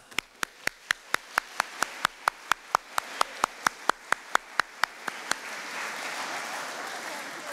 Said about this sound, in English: Round of applause for fathers.